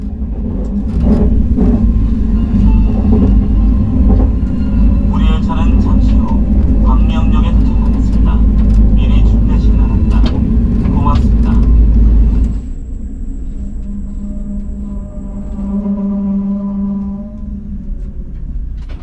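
A KTX high-speed train runs past Geumcheon-gu Office Station toward Gwangmyeong Station, with a loud, steady low rumble that drops abruptly to a quieter hum partway through. A single high tone sounds briefly after the drop.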